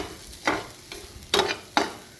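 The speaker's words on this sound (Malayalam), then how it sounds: "ഉപ്പ് പൊടി ഇട്ട് എല്ലാം ഇട്ടിനി എല്ലാം കൂടെ നന്നായിട്ട് ഒന്ന് യോജിപ്പിച്ചുകൊണ്ടിരിക്കുകയാണ്" Bean-leaf thoran with grated coconut and salt stirred in a pan, giving four distinct scraping strokes over a faint background sizzle, with no talking.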